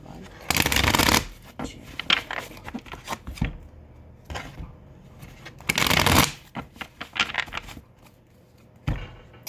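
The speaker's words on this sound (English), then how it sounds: "You saw me shuffle." Tarot cards are shuffled in several quick riffling bursts, crisp and close, separated by pauses with soft handling noises and brief talk.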